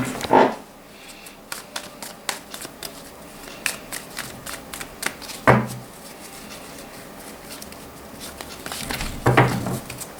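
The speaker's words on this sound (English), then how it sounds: "I will draw 4 cards for you, clarify with another 4 from another deck" Tarot cards from two decks are shuffled and drawn for a reading: soft riffling and patter near the mic, with a few sharper slaps as cards are set down, and no one speaking.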